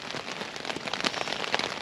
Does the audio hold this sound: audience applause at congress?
no